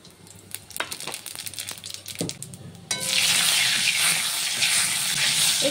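Whole dried red chillies and radhuni seeds hit hot oil with a sudden loud, steady sizzle that fills the second half after a few quieter clinks and taps, close by with no talking.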